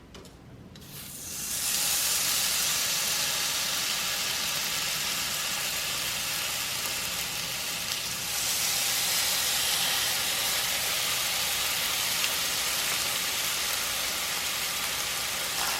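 Grease sizzling loudly in a frying pan on a home stovetop, a continuous close, bright hiss that starts abruptly and holds steady, swelling slightly partway through, with no talk.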